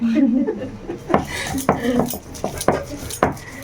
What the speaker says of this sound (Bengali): মিক্সিতে না ঘুরিয়ে দেখো বেশি টেস্টি হবে বলে শিল পাটায় বাটছে